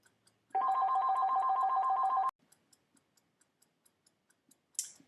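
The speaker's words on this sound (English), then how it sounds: "I apologize, I had a phone call there" A telephone rings with a steady electronic trilling tone that lasts about two seconds and then stops, followed by quiet ticking and a brief burst of hiss near the end.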